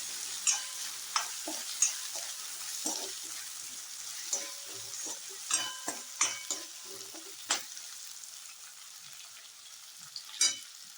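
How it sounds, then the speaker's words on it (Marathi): Thin potato slices fry in hot oil for a mixed peas-and-potato curry, a steady sizzle broken by repeated clattering stirs of a spoon against the pan, close and fairly quiet with no talking. "हे बघा असे पातळ पातळ स्लाइस करून घेतलेले आहे ते याच्यात घालून भाजून घेऊया. चांगलं तेलात असं परतून घेऊया."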